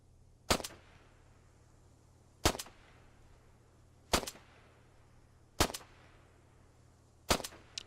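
Rifle rounds fired in the military video game ARMA 3: five sharp, evenly spaced single shots roughly two seconds apart, crisp and moderately distant, with a faint steady hum between them and no talking.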